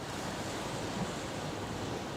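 Rough, choppy water on the Westerschelde estuary makes a steady broadband wash of waves with wind buffeting the microphone, continuous and fairly loud, with no voices.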